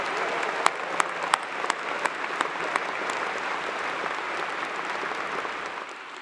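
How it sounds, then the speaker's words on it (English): A university fall graduation audience applauds in a large hall, a dense, sustained wash of clapping with a few sharper nearby claps early on, fading slightly at the end. "Will you please give a big, loud round of applause to Anna Grace for the great job she did sing"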